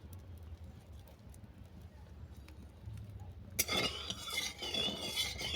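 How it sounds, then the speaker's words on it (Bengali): A spoon stirs a cup of salted water in a pot before semolina goes in, giving close clinking and scraping that starts partway through, after a quiet stretch. Someone talks at times. "জলটাকে অল্প নেড়ে ছেড়ে"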